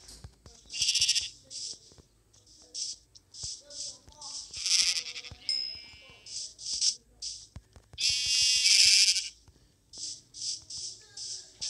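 Sheep in a Minecraft-style video game bleat repeatedly in short, bright bursts, several overlapping and some louder and longer, alongside clicks and small game sounds while a player speaks at times.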